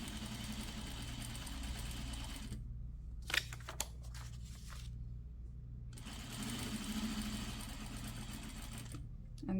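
A sewing machine runs steadily, stitching fabric along a seam for a slash pocket. The motor hums and the needle chatters, stops for a few seconds of quiet with small handling clicks, then resumes its even whir.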